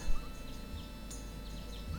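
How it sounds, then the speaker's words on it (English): A chicken in the farming video game Story of Seasons: Pioneers of Olive Town gives a few soft, short clucks and chirps over a quiet ambient background, faint and brief. "we can tame the chicken now that we have a coop"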